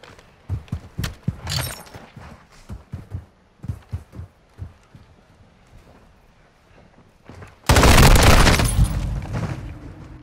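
A grenade explodes in Call of Duty: Modern Warfare II: a loud, sudden broadband blast near the end that holds as a heavy, slowly fading rumble, following a run of dull, irregular thuds.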